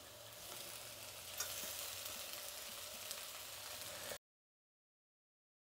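Potatoes go into hot oil in a pan while making a kaaram dosa, setting off a dense, steady frying sizzle with a few faint stirring ticks before it cuts abruptly to silence.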